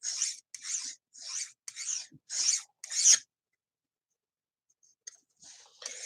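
Repeated rasping strokes of a knife blade drawn across a sharpening stone while working off a burr, six even passes in a steady rhythm, close and clear, followed by a quiet pause and a few lighter scrapes.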